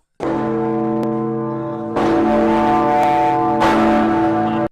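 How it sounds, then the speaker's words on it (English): A deep, sustained bell-like tone with rich ringing harmonics, struck again twice with loud renewed attacks and long resonant sustain between them. "I'm going to play a boycott bell right now"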